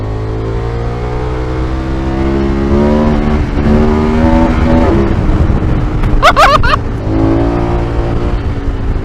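A touring motorcycle accelerates hard in fourth gear into a power wheelie. The engine roars loud and close, its pitch climbing over steady wind rush, with a brief sharp whine near the end.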